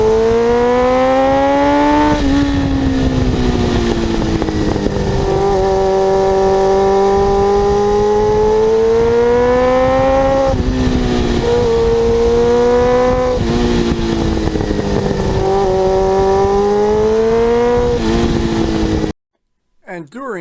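A 1989 Kawasaki GPX750R motorcycle revs loudly up through the gears, the engine note climbing, dropping at each shift and climbing again for a long continuous run before cutting off abruptly at the end.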